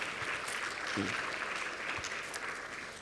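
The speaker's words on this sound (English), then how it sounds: "Let's give them a big applause." A crowd at the opening ceremony of the U20 Mayors Summit applauds with dense, continuous clapping that stays fairly steady throughout, with a voice briefly audible under it.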